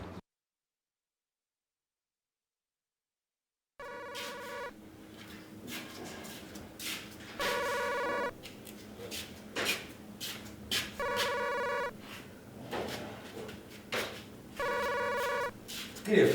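A telephone rings in a drama-serial room scene, its tonal ringtone bursts repeating several times after a brief silence, mixed with voices talking.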